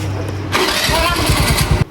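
Motorcycle engine sputtering to life in a village setting, a low revving rumble with rapid rhythmic pulses building over a steady background hum, fairly close and loud, then cutting off abruptly.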